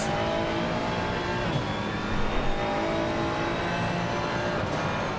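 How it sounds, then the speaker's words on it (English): A Ferrari GT3 race car engine in a racing video game roars steadily from the cockpit at Bathurst, loud and constant, with gear changes and a brief surge partway through. "This is a nice sounding car, this Ferrari in the cockpit."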